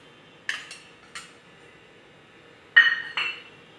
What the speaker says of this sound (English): Now mix all the ingredients nicely.